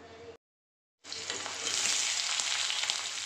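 Sliced onions frying in hot mustard oil: a brief sizzle, a sudden cut to silence, then a loud, steady, close crackling fry that builds and holds to the end.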